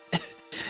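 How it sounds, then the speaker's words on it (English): A voice acts out a woman coughing up water in a fantasy role-play scene, giving two close, harsh coughs separated by a short pause. "She's coughing loudly."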